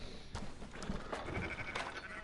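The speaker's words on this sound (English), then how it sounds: "Fine sheep." Sheep bleating in the Red Dead Redemption 2 video game, a few wavering calls at moderate distance layered over outdoor ambience, no talk.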